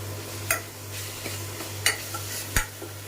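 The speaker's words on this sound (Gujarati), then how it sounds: "અને બરાબર ચલાવીશ જેથી તેલમાં બધા મસાલા પર ચડી જાય અને સરસ મિક્સ થઈ જાય" Spices are stirred in hot oil in a pan for dal palak, with a soft sizzle and a steady low hum broken by a few distinct scraping clinks of the spoon against the pan.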